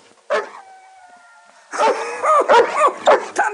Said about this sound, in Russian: Та не гавкай, хоть ти на меня!